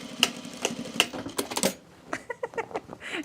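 Sewing machine stitching in short bursts to back-tack a pocket on trousers, a quick mechanical whirring run followed by a few brief clicking stitches, close and fairly quiet.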